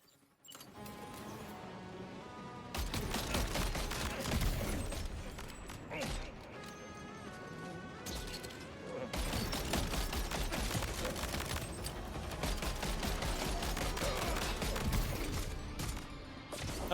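Gunfire in Death Stranding 2, loud clattering bursts of rapid shots that start and stop in clusters over a noisy mechanical background, with a few quieter gaps between volleys.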